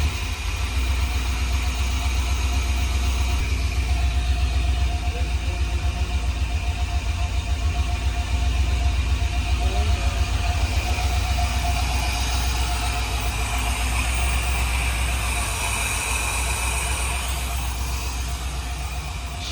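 A V8-swapped Nissan 240SX idles with a loud, steady, low rumble and a faint lumpy pulse, close by and uninterrupted for about twenty seconds.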